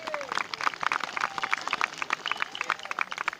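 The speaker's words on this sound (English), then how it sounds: "Let's give them a round of applause" Applause from an outdoor audience at a Roman day demonstration of cavalry combat, dense rapid clapping sustained throughout with a faint voice underneath.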